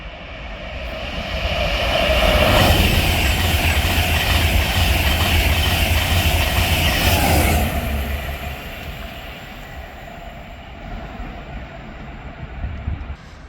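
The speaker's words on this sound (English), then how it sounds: "we now have a Class 91 Intercity 225 working a service from Leeds" Class 91 Intercity 225 train passing through Hatfield station on the East Coast Main Line, a loud rushing roar that builds quickly, holds for several seconds, then fades away.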